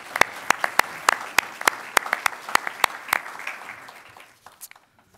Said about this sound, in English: So I think just a quick round of applause to all the organizations